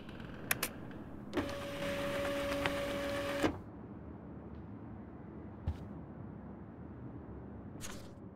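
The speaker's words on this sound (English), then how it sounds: "Now I have to print this fast and get the hell out of here" A printer in the video game Life is Strange prints an email: a few sharp clicks, then a steady mechanical whir with a held tone for about two seconds, stopping abruptly before a quiet stretch with faint taps.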